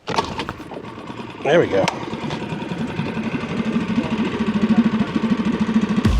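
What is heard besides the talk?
small gas boat motor being started and running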